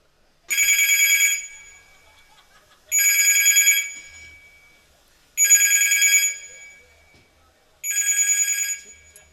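A telephone left behind rings in four evenly spaced bursts, each about a second long, loud and bright, with near-silence between rings.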